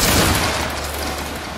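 A volley of musket fire in a Roblox war game erupts as one loud, dense crackling blast that rolls on and slowly fades.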